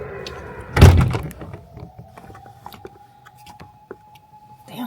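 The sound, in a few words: car power window closing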